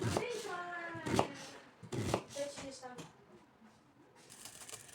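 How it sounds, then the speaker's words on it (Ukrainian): A knife slices an onion on a board in several crisp cuts, halving it and cutting quarter rings, with someone talking over the chopping at moderate volume. "перерізаю її навпіл і нарізаю на чверть кільця"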